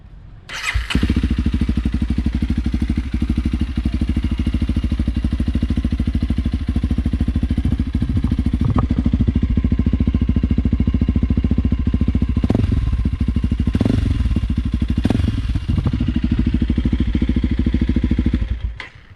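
Honda CRF 300 L motorcycle, about two years in use, starts up and runs with a loud, close, thumping idle and exhaust note, with a few light blips before shutting off.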